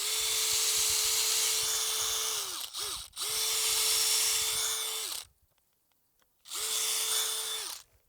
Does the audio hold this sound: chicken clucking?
no